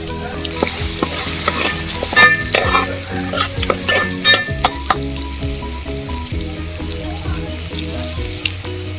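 Garlic and curry leaves sizzling hard in hot oil over a wood-fired stove while jackfruit curry is cooked, a loud crackling burst that settles into busy spattering with stirring clatter.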